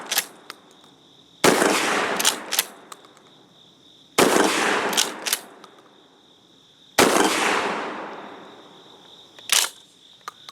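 Gforce GF12P shotgun fired after repairs, three loud, sharp blasts spaced a few seconds apart, each with a long decaying echo outdoors, plus a few softer clacks of the action being worked between shots.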